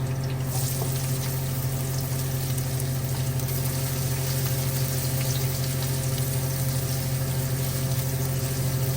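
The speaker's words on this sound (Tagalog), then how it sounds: "Pagsama na natin ang ating sibuyas at bawang." Chopped onion and garlic sizzle steadily in hot oil in a frying pan, a close, continuous crackling hiss over a low hum.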